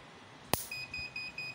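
A short sharp snap from a 12V 500W inverter shorted during a test is followed by a high, thin alarm beeping in a steady repeating pattern, faint and close.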